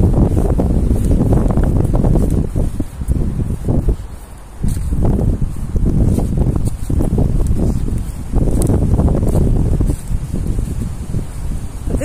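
Strong wind gusts buffet the microphone in a large cemetery, a loud, continuous rushing roar that swells and dips in waves, with brief lulls between the blasts.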